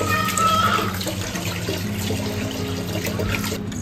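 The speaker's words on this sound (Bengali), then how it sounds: "আমি চাল ডাল সব কিছু একসাথে মিক্স করে ধুয়ে নিচ্ছি" Rice and lentils rinsed together in water for khichuri, a steady close wash of running and sloshing water that carries on without pause.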